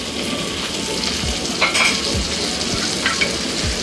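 Sliced green brinjal sizzles steadily as it fries in a pan with turmeric powder and salt, a dense close crackle broken by a few louder spatters and faint stirring scrapes.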